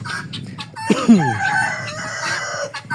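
Chickens scratching through fresh straw in a farm coop during an evening round of a homestead, with a rooster letting out one loud, close crow partway through over soft, steady clucking.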